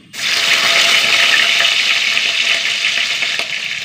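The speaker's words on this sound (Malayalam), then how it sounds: "എണ്ണ നന്നായി ചൂടാവട്ടെ കുറച്ച് കടുകിട്ട് കൊടുക്കാം നാലല്ലി വെളുത്തുള്ളി" Mustard seeds and garlic cloves drop into hot oil, setting off a sudden loud burst of frying that holds as a dense, close hiss with a few faint pops and no speech.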